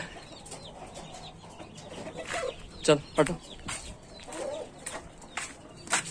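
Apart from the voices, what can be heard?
chicken clucking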